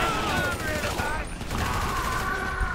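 Rapid, sustained gunfire with unlimited ammo in Grand Theft Auto 5, a dense continuous fusillade of loud overlapping shots with mechanical clatter and no break in the shooting.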